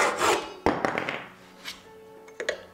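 A short burst of sawing trims excess wood from a small water ledge glued to the front of a wooden trailer frame, with quick rasping strokes and a couple of sharp knocks.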